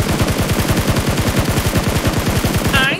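Rapid automatic gunfire from the video game PUBG Mobile, loud and continuous with a steady fast rhythm of shots for about three seconds, ending with a brief higher-pitched tonal effect.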